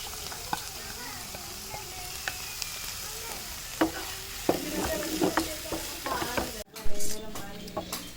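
Garlic and tomato frying in a pan for a chicken snack, a steady close sizzle broken by scraping and clinking of a spoon stirring against the pan.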